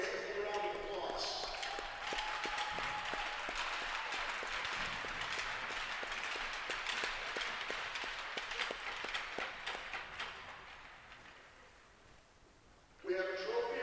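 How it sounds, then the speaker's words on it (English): A crowd in an ice hockey arena applauds both teams after a youth tournament game, with dense, steady clapping lasting about twelve seconds before fading out; a voice speaks over it near the end. "Let's give them a round of applause."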